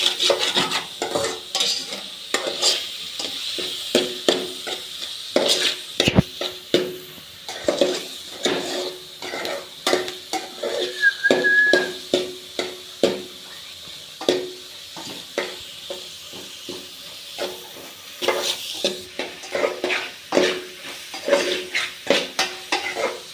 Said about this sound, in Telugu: రెండు గుడ్లు వేసుకున్నాను. వాటిని ఇలా బాగా మిక్స్ చేయాలి.